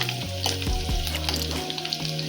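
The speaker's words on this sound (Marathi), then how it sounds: "तेल तापून झालं की लसूण टाकायची." Garlic fries in hot oil with a loud, steady crackling sizzle that runs continuously through the short stretch, close up and without any voices.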